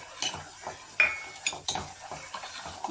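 Dark sugar is stirred into aval payasam in a pot with a spoon, giving soft scraping strokes and a few light metallic clinks at close range.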